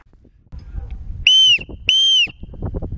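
Two loud, shrill whistle blasts, each about a third of a second long, are blown outdoors in a forest to call a dog, over low rustling and handling noise.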